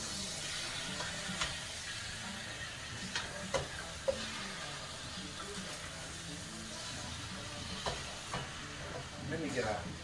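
Trinidad curry chicken stirred in a pot, a steady sizzling hiss with scattered scraping knocks and clinks from the spoon against the pot throughout.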